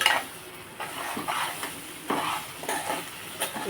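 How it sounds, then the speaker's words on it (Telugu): Curry being stirred in a pan, with a ladle scraping in uneven strokes over a faint sizzle, close and clear with no talk. "ఒకసారి మొత్తం కలుపు"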